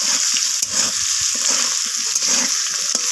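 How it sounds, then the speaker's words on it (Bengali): Potato pieces fry in hot oil with salt and turmeric, giving a loud, steady sizzle throughout with occasional scraping stirs of a utensil in the pan. "লবণ আর হলুদটা মিশিয়ে নিয়ে আমি আলুটাকে একটু লালচে করে ভেজে নিচ্ছি।"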